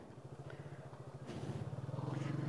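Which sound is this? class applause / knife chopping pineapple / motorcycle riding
motorcycle riding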